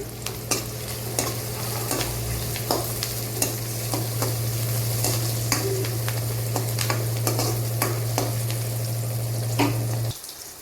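Green chillies sizzle loudly in a hot frying pan for a Telangana-style curry, with a steady fry hiss and repeated scraping clicks of stirring throughout, fading abruptly at the end.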